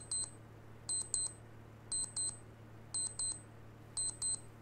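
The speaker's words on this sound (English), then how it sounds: "But alarms do go off, as long as the device is powered on and audio is enabled." An alarm goes off on a Librem 5 phone as four evenly spaced pairs of high electronic beeps, fairly faint over a steady low hum.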